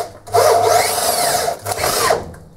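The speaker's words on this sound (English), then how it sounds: "I'm going to drill a pilot hole and then use the jigsaw" A power drill bores a pilot hole in wood, two close, loud bursts of whirring and cutting, the second shorter, separated by a brief pause.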